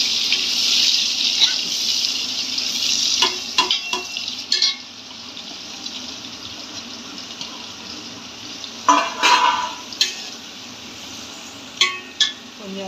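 Onions for biryani go into hot fat in a pan and are stirred, opening with a loud hissing sizzle that settles into quieter frying, broken by several clattering stirs and scrapes.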